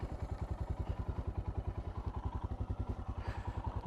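A 2020 Royal Enfield Himalayan motorcycle engine thumps in a fast, even single-cylinder pulse while riding off-road, heard close and steady with faint clatter over the beat.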